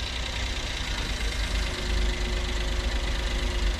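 A small customised 4x4 mini van's three-cylinder turbo engine idles steadily with a low, even rumble and faint knocking, close by and continuous, with no talking.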